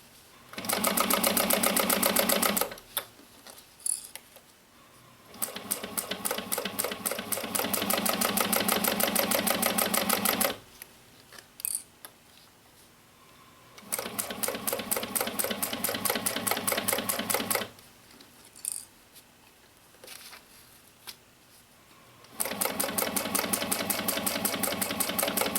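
Sewing machine running in long steady bursts while stitching a tote bag seam, a fast even mechanical chatter that stops and restarts several times, close and clear with short quiet gaps.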